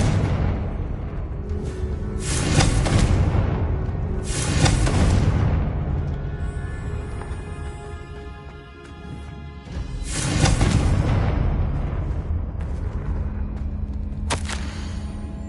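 Spell blasts from the Confringo fire spell in Hogwarts Legacy on PS5: several loud, booming bursts that come a few seconds apart, each fading into a rumbling tail, with continuous game ambience underneath.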